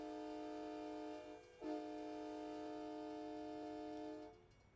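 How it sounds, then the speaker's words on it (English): A train passing nearby sounds a long, steady horn that dips briefly and then resumes, loud and close, with no talking. "Ah, there's the train. Choo choo."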